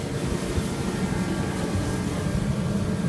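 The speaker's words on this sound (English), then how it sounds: "Sorry for the heater noise." A heater runs in a garage, producing a steady broadband whooshing hum with no breaks, fairly close and continuous.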